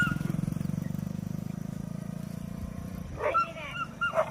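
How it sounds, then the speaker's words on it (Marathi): A dog barks in a steady, rapid run of repeated barks, fairly close, then the barking breaks off and a few higher calls from startled goats follow. "बघू शकतात कुत्रं भुकल्याच्या नंतर कशा पळतात शेळ्या, घाबरतात."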